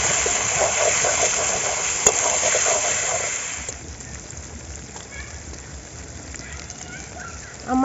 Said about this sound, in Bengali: এবার আমি আলু দিয়ে ভালো করে মাংস কষিয়ে নেব।